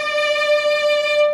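A violin note played with vibrato, with a wavy, pulsing pitch sustained evenly and close, solo with no talking.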